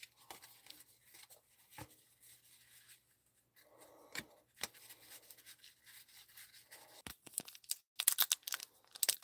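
Soft papery rustling and flicking, intermittent shuffles and small slaps of baseball trading cards being handled close up, with brief quiet gaps between bursts.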